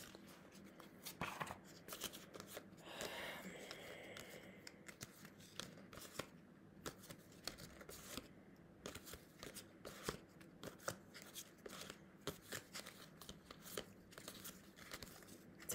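Playing cards shuffled and handled while someone searches for a particular card: soft papery riffles and crisp flicks in quick irregular bursts throughout, close and fairly quiet, with no talking.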